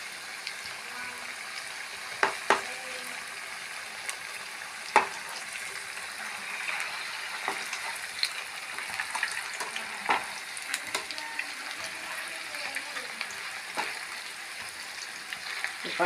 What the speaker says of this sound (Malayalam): നമ്മൾ പഴംപൊരി ഉണ്ടാക്കണ പോലെ നന്നായിട്ട് ഫ്രൈ ആവണം.